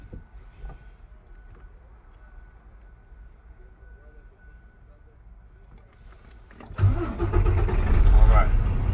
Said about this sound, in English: I'm gonna turn the truck on